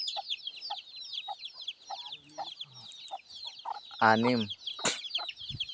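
Native chickens, a hen among her chicks, cluck and peep busily in a rural yard, with high chirps throughout and a loud squawk, while a person speaks briefly.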